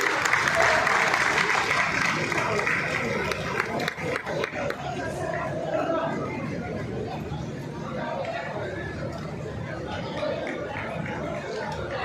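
Crowd applause at the opening of the Fish Festival 2025 at Island Grounds, a sustained wash of clapping mixed with chatter and babble that runs the full length, fairly loud and steady, with no single voice standing out.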